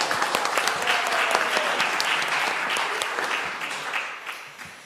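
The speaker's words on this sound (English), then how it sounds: "Can you all give Dara a round of applause?" Audience applause for a child at a church service's children's segment, a steady burst of clapping from a gathered congregation that fades toward the end.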